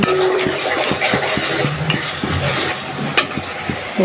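Spice paste of ground ginger, garlic and cumin sizzles loudly in a hot pan while a spoon scrapes and stirs it in a steady rhythm, close and continuous with no talking.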